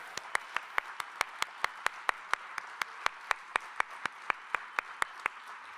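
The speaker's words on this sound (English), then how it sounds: "Give everyone a round of applause." Clapping at the Wendt and Mayor's Arts Awards ceremony for 2024 winners. Sharp, evenly spaced claps keep a steady beat, fairly faint and set apart from one another rather than blending into a dense wash.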